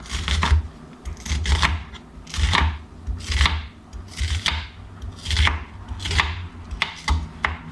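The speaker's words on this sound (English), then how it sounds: "So I take out the back, chop it up." Knife chopping an onion on a cutting board, a steady run of sharp close-up knocks in uneven bursts, with no talking over them.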